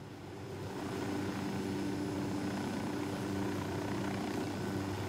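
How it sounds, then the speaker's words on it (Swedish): A helicopter in a video game, a steady, loud rotor and engine drone that rises slightly at the start and then holds constant and close throughout, with no voices. "Bara hoppa in i helikoptern så följer han efter."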